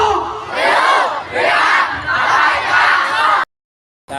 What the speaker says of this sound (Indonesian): ini adalah kerumunan massa